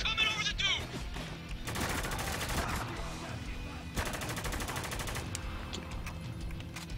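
Automatic gunfire from Spec Ops The Line comes in two sustained bursts of rapid shots, fairly quiet under a talking voice, with a steady background hum.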